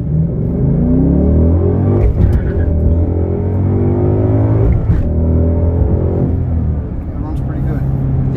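A 2017 Ford Mustang GT engine revs loudly during a test drive, a deep, steady rumble with rising surges, heard from inside the car under people chatting.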